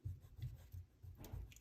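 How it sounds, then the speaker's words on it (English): Short soft rubbing strokes of an eraser across watercolor paper, removing pencil guide lines, heard as quiet close scrubbing bursts in a repeating rhythm. "we can erase some of the lines that were just there to help us"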